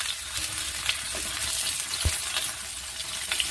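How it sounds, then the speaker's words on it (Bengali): Ridge gourd frying in hot oil in a wok, a steady close crackling sizzle with faint intermittent stirring clinks and one soft thump, no talk. "কড়াইয়ে তেলের মধ্যে ঝিঙেটা দিয়ে দেবো।"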